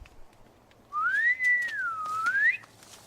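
A single clear whistled tone rising, holding, dipping and rising again, lasting about one and a half seconds, with faint outdoor background.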